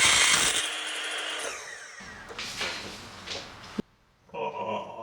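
Miter saw crosscutting quarter-round timber trim for a stairwell: a loud, bright whine of the blade through wood that drops off after a few seconds, then lighter clattering and handling noise, with no talking.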